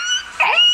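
A single short dog yelp or bark sounds close by, brief and sharp, heard outdoors near a stopped motorbike.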